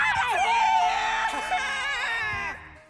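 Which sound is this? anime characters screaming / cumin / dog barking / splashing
anime characters screaming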